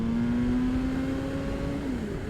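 A 2014 BMW S 1000R motorcycle accelerates hard in one long, steady rising engine whine heard from the rider's position, loud and close with wind noise, tapering at the end.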